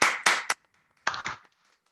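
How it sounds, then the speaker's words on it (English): Two brief bursts of close, sharp hand claps, a few claps each with a short pause between, from participants in an online poetry open mic. "that's a clap"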